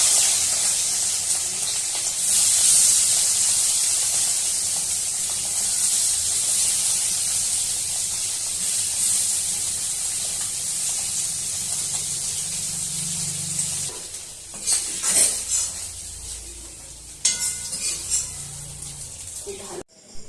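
Small puti fish fry in mustard oil in a pan with a broad, steady hiss of spitting oil, close and fairly loud, which thins toward the end as a few clattering handling sounds break in.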